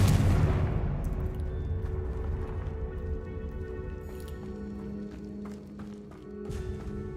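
A Confringo blasting curse explodes in Hogwarts Legacy, a loud burst at the start that decays into a low rumble, followed by steady ambient game tones and a few faint clicks.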